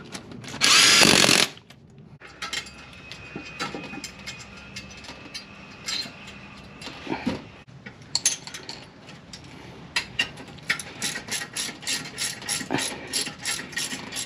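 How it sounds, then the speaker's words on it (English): A ratchet with an adapter torquing the crankshaft damper bolt on an H22 engine, heard close as a loud burst followed by a run of quick, rhythmic ratcheting clicks and metallic scrapes. "I'm going to put my other adapter so I can properly torque this bolt."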